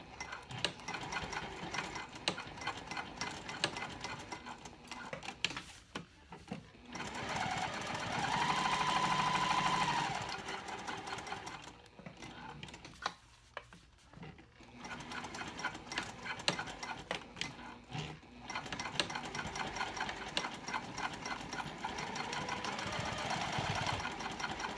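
A sewing machine stitching a cork clutch wallet, running in several long bursts of rapid mechanical chatter with short pauses between, forward and back stitching, close and steady, no voices.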